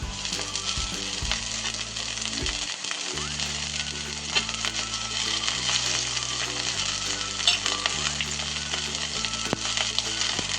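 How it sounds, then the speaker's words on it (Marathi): Gholchi (purslane) greens frying with pink-browned onion in a pan, giving a steady, close sizzle that runs throughout, with low tonal background sounds beneath. "कांदा छान आता गुलाबी रंगावर झाला आपला, आता भाजी टाकून घेते"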